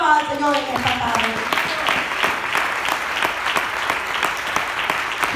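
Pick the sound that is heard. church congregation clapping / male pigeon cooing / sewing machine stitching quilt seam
church congregation clapping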